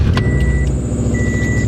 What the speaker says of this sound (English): we go start the car.